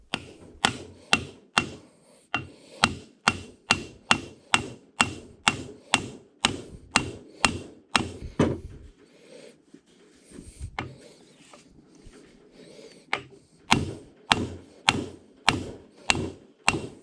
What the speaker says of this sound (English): I should be able to tap it out from the top of the housing